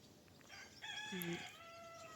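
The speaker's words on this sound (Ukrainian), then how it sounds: "Півень співає доброго ранку." A rooster crows once, a clear cock-a-doodle-doo heard from a moderate distance over quiet outdoor background noise.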